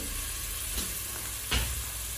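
Frozen onions sizzle in a saucepan with a steady crackling hiss, and two brief louder bursts of spitting rise above it.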